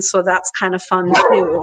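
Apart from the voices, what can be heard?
dog barking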